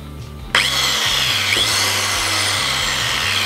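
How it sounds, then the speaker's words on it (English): A handheld tile saw with freshly replaced carbon brushes starts up abruptly and runs at full speed, a loud steady motor whine with a slight pitch dip partway through, continuing alone without talk. "All that's left is to plug it in and let it rip."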